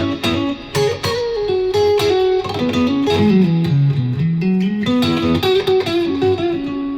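A Sire Strat-style electric guitar in the second pickup position with light overdrive plays a loud, close run of sliding lead notes mixed with strummed chord stabs. The tone is bright and quacky with mild grit, and no voices are heard.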